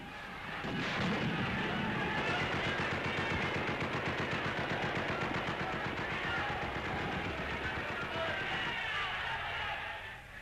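Rapid wartime gunfire crackles in long, dense bursts from a newsreel of the Allied entry into Rome, loud and continuous, with narration running over it.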